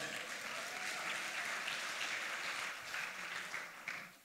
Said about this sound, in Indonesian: Beri tepuk tangan buat anak-anak muda.